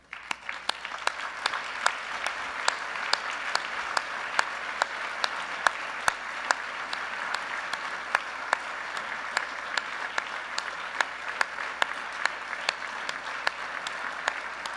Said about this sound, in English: I want you to applaud them.